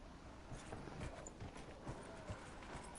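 Horse hooves in the Dragon Age Inquisition video game on PS4: a steady, moderately quiet clip-clop of a mount trotting, repeating evenly through the whole stretch with no voices over it.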